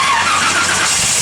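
A 1955 Chevrolet 3100 pickup with a stroked full roller motor on pump gas starts up, a loud, close burst of harsh engine noise with a high squeal.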